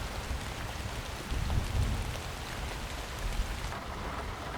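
Rain falling through a forest in the From the Depths game cinematic, a steady, soft hiss of rain with low rumbling swells, distant and even throughout.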